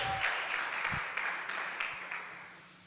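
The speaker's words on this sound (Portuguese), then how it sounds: "Uma salva de palmas para os nossos irmãos." A church congregation breaks into applause that fills the room for a few seconds, then gradually fades.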